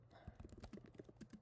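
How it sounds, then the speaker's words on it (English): Fingers tap on a computer keyboard in quick, uneven clicks, faint and close, with a voice murmuring underneath. "I'll just use the keyboard on the computer."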